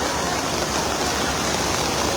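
A strong floodwater current rushes across a main road in Marilao, Bulacan, making a dense, steady roar of churning water that stays close and unbroken throughout.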